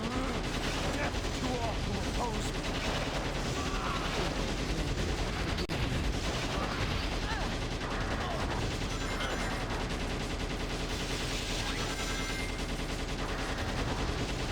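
A Gatling gun fires nonstop at gun mechs in the Shadow the Hedgehog video game, a dense, loud barrage of rapid shots and explosions layered with game music and sound effects throughout.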